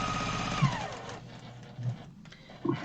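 A Brother sewing machine stitches quilt fabric with a fast, even mechanical whir, running steadily up close and then slowing and pausing between short bursts.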